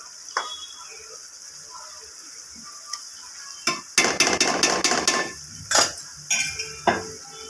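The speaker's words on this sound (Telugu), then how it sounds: "మసాలా మంచిగా నూనెలో వేయాక అప్పుడు ఫిష్ ముక్కలు వేయాలి" Fish pieces dropped into oil with masala, starting with faint scattered kitchen clatter and then bursts of loud sizzling spatter with sharp utensil knocks in the second half.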